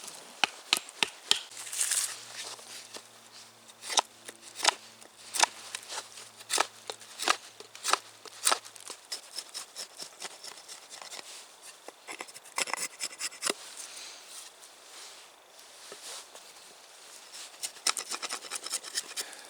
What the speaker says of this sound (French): je vais venir le percer à l'aide de la pointe du couteau